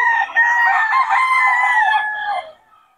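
A lemon sweater bull stag gamefowl crows once at close range, a loud drawn-out call lasting a couple of seconds before trailing off.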